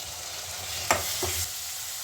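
Curry leaves and a chopped tomato drop into hot oil in a pan for paneer sukka, giving a steady frying hiss with two brief sharper crackles as they hit.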